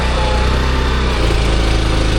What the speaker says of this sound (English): Now back to the tractor, which I'm pretty sure I left running 2 hours ago.